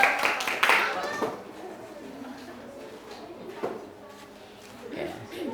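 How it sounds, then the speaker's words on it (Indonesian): A school class group is applauded with a brief burst of hand clapping at the start, then the clapping fades and children's voices talk. "beri aplaus buat kelompok 1"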